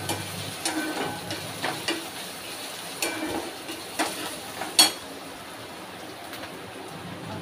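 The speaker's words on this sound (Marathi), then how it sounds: "आता हे मिक्स करून घेऊ आपण" A spoon stirs guar bean and potato vegetable curry in a pan with soft scraping strokes at irregular intervals, including a sharper knock near the end, over a faint background hiss.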